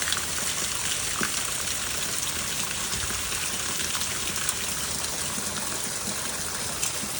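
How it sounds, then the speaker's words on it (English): Heavy rain pours down on plants in a front yard beside a brick house with no gutters, a steady dense rushing hiss that stays loud and unbroken throughout. "you can see how the rain is pouring down and beating on the plants that are there"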